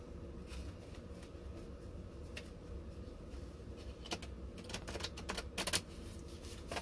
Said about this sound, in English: I'm going to kind of shuffle them really quick